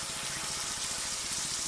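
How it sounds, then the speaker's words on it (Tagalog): Water pours steadily into a cooking pan holding squash and fish sauce for a Filipino vegetable dish, a continuous close, even gushing rush with no talking. "Lagyan ng konting water."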